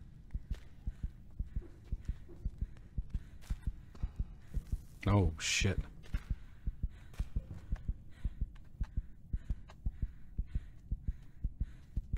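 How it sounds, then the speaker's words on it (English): A steady, thudding heartbeat pulses in the indie horror game Scarlet Deer Inn, low and rhythmic throughout, briefly interrupted by a sharp mid-clip sound while a man swears under his breath. "Yeah, there is a heartbeat."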